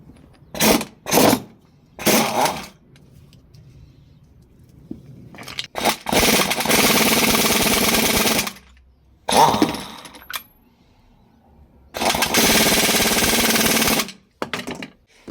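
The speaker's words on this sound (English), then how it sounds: "with the impact loosen up that center nut" An impact wrench with a 19 mm extension socket loosens the rusted center nut on a Ford Figo shock mount, firing in short sharp rattling bursts and then two longer sustained hammering runs separated by quiet gaps.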